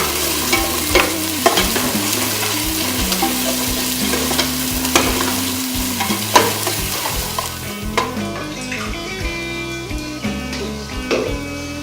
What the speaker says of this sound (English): 2 tablespoons tomato paste into the onions, which are frying. And stir well.